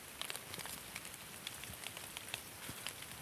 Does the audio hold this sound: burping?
no